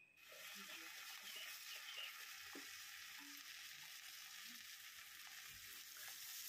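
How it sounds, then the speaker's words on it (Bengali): Chowmein with egg frying in a pan, a steady close sizzle throughout with occasional stirring scrapes and clinks. "তা ওগুলো ভাজা হচ্ছে, এবার চাউমিনটাও দিয়ে দেওয়া হয়ে গেল।"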